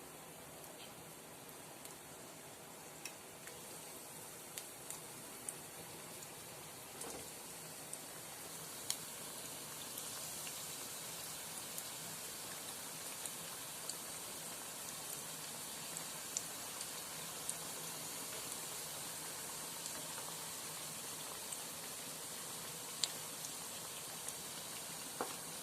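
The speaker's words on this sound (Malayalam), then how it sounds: "ഇതൊന്ന് ഫ്രൈ ആയി വരട്ടെ" Samosa sheets frying in hot oil in a pan, a soft, even crackling sizzle with scattered small pops, quiet and continuous throughout.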